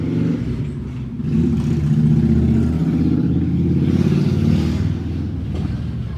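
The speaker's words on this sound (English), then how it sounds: "It's a motorcycle, it's loud." Loud, close motorcycle engine rumbling and revving up, a deep throaty drone that swells and holds steady.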